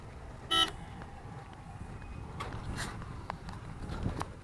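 Car and motorbike horns toot in the crowded lanes of Anjuna market in Goa, with one short, loud honk near the start and fainter beeps and traffic rumble after it.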